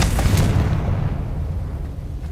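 A Confringo blasting spell detonates in Hogwarts Legacy, a loud explosive boom with a heavy low rumble that decays gradually over a couple of seconds.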